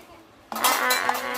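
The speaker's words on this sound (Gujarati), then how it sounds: "આ ગરમીના વાસણ ધોવાની મજા આવે છે" Metal pots and utensils clatter loudly during dishwashing, a sudden burst of clinking and rattling that begins after a brief quiet moment and keeps going, with faint voices underneath.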